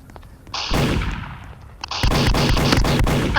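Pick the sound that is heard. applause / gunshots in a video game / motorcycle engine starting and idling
gunshots in a video game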